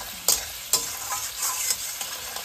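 Egg curry fries in a pan, a steady loud sizzle broken by a few sharp scraping strokes of a spatulaTake as it is stirred, with no voices.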